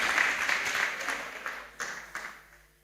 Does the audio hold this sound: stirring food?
no